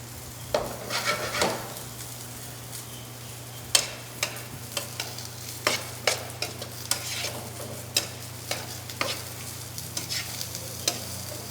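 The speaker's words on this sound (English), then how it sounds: "I'm just going to saute these up a little bit more" Vegetables sauteing in a pan, a soft continuous sizzle over a low hum, punctuated by regular clicks and scrapes of a utensil stirring against the pan, close and without talk.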